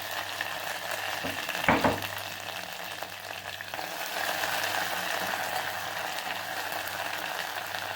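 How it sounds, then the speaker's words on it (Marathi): Cumin, ginger, garlic and curry leaves fry in a pan with a steady quiet sizzle, broken early by a brief clatter of stirring, the crackle swelling slightly later on. "आता हे आलं, लसूण आणि जिरे आणि थोडासा कढीपत्ता पण त्यामध्ये टाकलेला."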